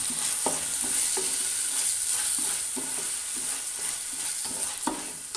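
Rice sizzles in a hot pan as it is dry-fried for a prawn rice dish while a utensil stirs it, scraping in a loose rhythm over a steady frying hiss.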